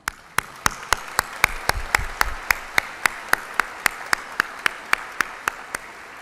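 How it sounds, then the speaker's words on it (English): Applause for a graduating class at a biomedical sciences graduation, heard as a single loud, evenly spaced clap repeating steadily, almost metronomic, over faint background crowd noise. "I'd like to have a round of applause for you right now."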